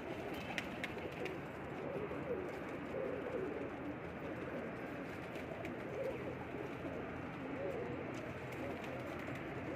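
A female Indian Teddy pigeon coos steadily at close range with continuous low murmuring, other pigeon sounds and faint voices blending in the background.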